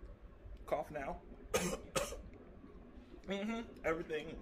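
Several sharp coughs come in quick bursts, one loud double cough in the middle, mixed with talking at moderate distance.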